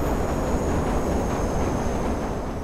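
A metro train passing in the video game Watch Dogs, a steady, rumbling rail roar with a faint high whine above it, constant in level for the whole stretch.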